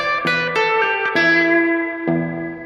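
An electric guitar plays a short bluesy phrase of bent, sustained notes with reverb, ending on a ringing held note; no voices.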